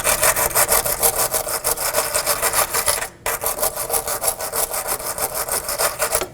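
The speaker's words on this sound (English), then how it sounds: "Now I'm going to clean our mating surface with a wire brush." Wire brush scrubbing the brake mating surface during a front brake hose replacement on a 2015-2023 Nissan Maxima, a loud, close, rhythmic rasping in fast back-and-forth strokes with one brief pause midway.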